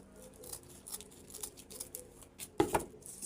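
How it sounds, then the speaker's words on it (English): Scissors snip away excess length of material while a Senegalese hat is being made, giving a few quiet close snips and one sharper cut near the end, with no talking. "I'll cut out this excess because it's too long"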